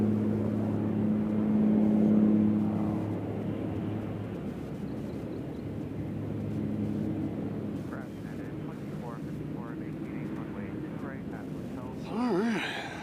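A twin-propeller aircraft drones steadily at Nashville International Airport, a sustained low hum that swells and fades at moderate distance, with a rising whine near the end; a person talks over it.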